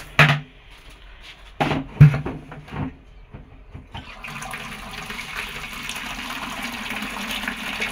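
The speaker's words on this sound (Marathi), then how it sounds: "त्यामुळं आता गरम पाण्यातच मुरत घालतो" Hot water is poured into a bucket to soak muddy boots: a few clunks and handling noises give way to a steady, close gush of running water that fills the second half.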